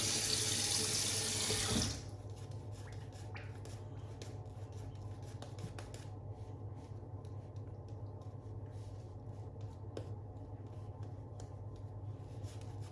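Tap water runs loudly into a sink for about two seconds while a razor shave is being prepared, then cuts off, leaving quiet faint rubbing and scraping sounds with a low steady hum underneath.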